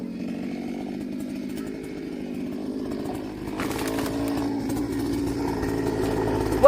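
Chainsaw cutting wood while a bench is being built, a continuous buzzing engine that rises sharply in pitch and loudness midway as the blade bites into the wood.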